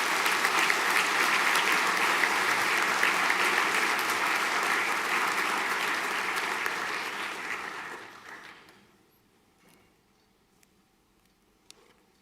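Sustained audience applause at a senior prizegiving ceremony for a scholarship winner, a steady dense wash of clapping for about eight seconds that fades out into near silence with a couple of faint ticks.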